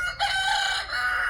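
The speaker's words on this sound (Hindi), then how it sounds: "ये प्योर असील मुर्गा है" A pure Aseel rooster on a desi poultry farm crows once, loud and close, a single sustained call filling the whole moment with no talk over it.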